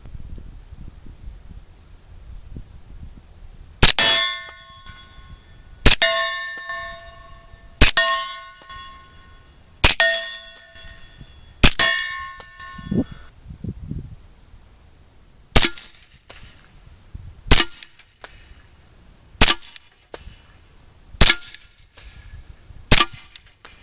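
Nine-millimetre pistol shots ring out at about two-second intervals outdoors, ten sharp reports, some followed by a metallic clang from a steel target 30 yards off, with light wind in between.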